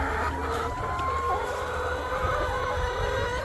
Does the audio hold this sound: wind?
no